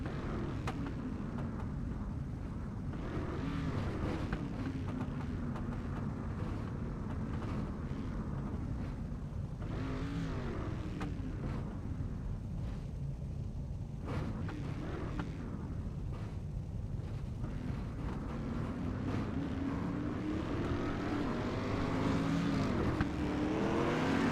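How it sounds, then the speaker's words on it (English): Dirt street stock race cars roll off behind the pace truck at the Charlotte dirt track in the iRacing game, a steady engine drone with rising and falling revs and a fuller surge near the end. "Cars rolling off now behind the Iracing Pace truck."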